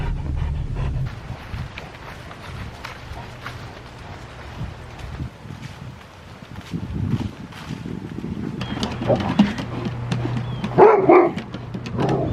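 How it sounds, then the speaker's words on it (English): A dog barks repeatedly during an outdoor walk, its sharp barks scattered over a steady wind and ambient rumble, growing louder and busier toward the end. "he just barks at nothing"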